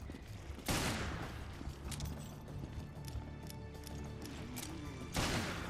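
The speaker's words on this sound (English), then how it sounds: "And I have my magnum ready to shoot him" Magnum pistol firing in Resident Evil Revelations Trench Raid mode, two loud, sharp shots roughly four and a half seconds apart, with game noise and clatter in between.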